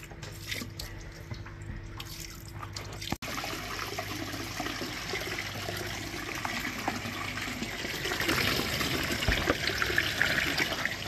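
Water draining out of an old, removed heating expansion vessel, a steady close trickling and gurgling flow with a faint hum under it at first, growing a little louder and splashier toward the end.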